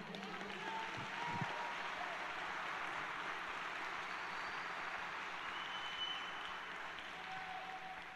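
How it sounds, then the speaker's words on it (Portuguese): A church congregation applauds the Lord during a sermon, a steady wash of clapping held at an even level throughout, fairly distant and diffuse in a large room. "Aplauda o Senhor"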